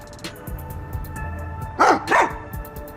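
A dog named Sugar in the video game Rain Code gives two quick, close barks in succession over quiet background game music, with no talking.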